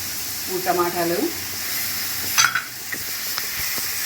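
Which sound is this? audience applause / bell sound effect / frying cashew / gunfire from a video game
frying cashew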